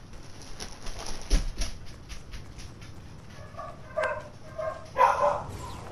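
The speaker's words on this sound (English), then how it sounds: "And there goes the doggies" Dogs bark in a video game, a few short yelps and barks near the middle and end of the stretch, fairly faint over steady game ambience with no talking.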